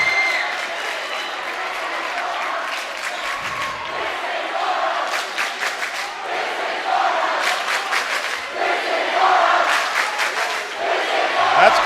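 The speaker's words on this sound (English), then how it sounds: "That's Casa fans cheering right now." Fans cheering at a boys high school basketball game in a gym, Casa Roble at Bella Vista, a roaring crowd with rhythmic clapping bursts and shouts that swell louder toward the end.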